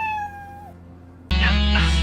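A cat meows from a cat video as a rising-then-falling tonal cry, followed by a louder, harsher meow that cuts in suddenly over a steady low hum.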